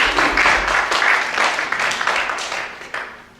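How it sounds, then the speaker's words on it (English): An audience at a city council candidate forum applauds in a dense, steady wash of clapping that gradually fades over a few seconds. "give one more round of applause for these candidates"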